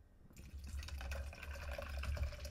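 A canned Dashfire Manhattan cocktail is poured over ice into a chilled glass, a steady liquid splash and trickle that starts after a brief pause and runs continuously, close and moderately loud, with no talking.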